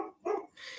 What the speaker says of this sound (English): sorry that my dog's out barking